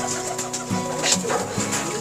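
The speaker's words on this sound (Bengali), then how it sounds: "এখন আমাদেরকে দাদার কবুতরগুলো ধরে ধরে দেখাবে" Pigeons in a small loft coo in soft, low repeated phrases close by, with faint bird calls and rustling around them and no talk.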